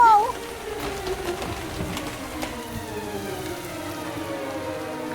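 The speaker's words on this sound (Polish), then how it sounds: "Chyba pada deszcz." Steady rain patters and hisses on a surface, continuous and moderately loud, after a brief high squeak at the very start.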